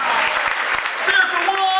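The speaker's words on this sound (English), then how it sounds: "How about a round of applause for Juan?" An audience claps for a performer, a loud wash of applause with voices mixed in and some cheering toward the end.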